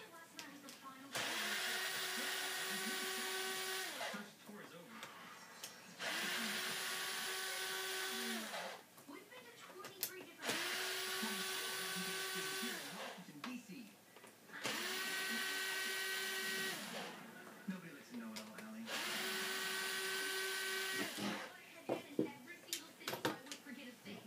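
Power tool removing screws from an HPI Savage RC car: five or six whirring bursts of a few seconds each, with a steady pitch that winds up and down at the ends, close by, with talking between the runs.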